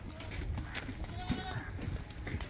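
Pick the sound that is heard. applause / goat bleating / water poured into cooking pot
goat bleating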